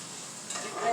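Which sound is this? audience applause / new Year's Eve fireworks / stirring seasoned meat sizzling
stirring seasoned meat sizzling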